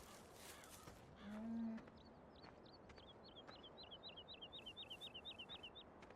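Cattle moo in a pasture in Farming Simulator 17, with one clear low moo early on over steady ambient farm background. A long run of evenly spaced chirping bird calls follows.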